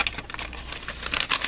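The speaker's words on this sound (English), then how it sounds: "So my X-Acto knife. So cut this here." Paper bag sliced with an X-Acto knife, giving a run of quick, close crinkling and scratchy cutting rasps that grow louder and denser toward the end.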